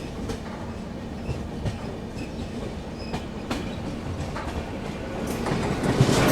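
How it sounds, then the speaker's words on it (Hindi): Garib Rath Express ICF coaches rumble along the track in India, a steady low roar with repeated rhythmic clicks and clatters of wheels over rail joints, heard from inside the moving train. "ICF के ट्रैक साउंड बहुत बढ़िया लगते हैं यार।"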